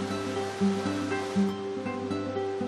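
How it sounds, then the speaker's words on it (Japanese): Water flows steadily near forest waterfalls, a soft continuous rushing wash under gentle background music, fairly quiet and unbroken. "散策途中の BGM は 水の音。"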